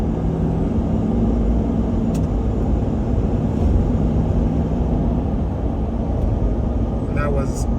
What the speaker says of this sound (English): So we're going 65 miles an hour right now and accelerating.